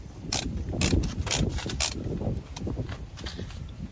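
Ratcheting clicks from a torque wrench being backed off after tightening the steering stabilizer bolts on a Jeep Wrangler, a run of close, repeated mechanical clicks and clacks with no talk.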